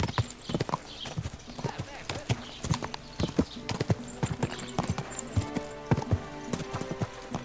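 Horse hooves clip-clopping in Kingdom Come: Deliverance 2, a close, steady run of sharp rhythmic hoofbeats with a faint whinny and occasional talk in the background.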